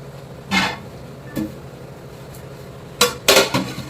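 A metal lid clanks onto a cooking pot while chicken biryani is being made at home: a few sharp, close metallic knocks and rattles, two early and a cluster near the end, with no talk.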